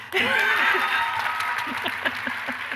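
An audience claps and cheers with some laughter and voices mixed in, the applause strongest at first and then thinning out.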